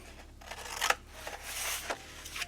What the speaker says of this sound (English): then you want to cut the corners as well